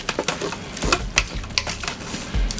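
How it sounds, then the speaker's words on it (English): Ground beef and pork stirred with garlic powder in a pan, giving a run of close scraping and clinking utensil strokes in an uneven rhythm, with no talk. "We're gonna mix that up real good."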